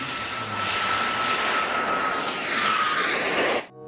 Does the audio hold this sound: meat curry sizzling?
no